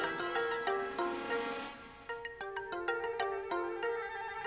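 A mobile phone ringtone plays a melodic electronic tune of sustained tones and then a run of quick, evenly spaced notes. It is fairly quiet and rings on its own with no talk.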